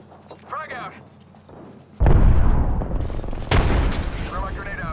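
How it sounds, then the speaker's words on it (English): A grenade blast in an Apex Legends-style shooter with the Mastiff in play, a loud sudden boom that erupts and rolls on, followed by a second burst, with faint voice chatter before the explosion. "Throw my grenade out."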